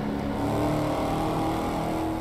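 Dodge Charger Hellcat Widebody engine revving in the racing game Assetto Corsa, a loud, sustained mechanical roar held steady throughout with no voices.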